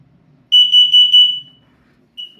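A smoke alarm during its monthly test gives four loud, close, shrill beeps in quick succession, then a sustained tone that fades, followed by one shorter chirp after a pause.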